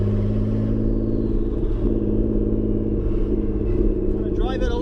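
A Nissan 300ZX Z32 engine idles loudly with a deep, steady rumble and throbbing tones, a faint whistle rising near the end.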